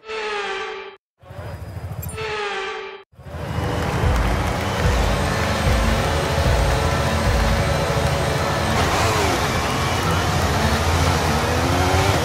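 Formula 1 car engine in the F1 23 racing game at the Mexico Grand Prix, a sustained loud high-pitched drone that runs steadily for most of the stretch after a few short bursts at the start.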